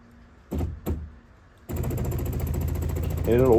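A 12-volt fuel pump for an abandoned 6x6, wired to an 18-volt Milwaukee battery, whirs steadily and loudly after two short clunks, pumping thick goop. A voice talks over the end.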